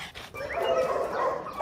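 Dogs rescued from slaughter whimpering and yipping close by, a short high whine with a sharp bark-like yelp at the end.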